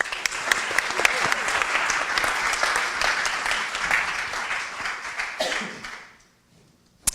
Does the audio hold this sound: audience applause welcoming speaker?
yes